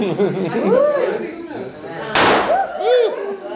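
A fairly large balloon bursts during a molecular gastronomy demonstration, one sharp loud pop partway through, amid continuous excited talking and squeals from people nearby.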